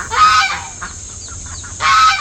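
A mother duck calls twice, loud and close, with a quieter stretch of soft bird sounds between the two calls.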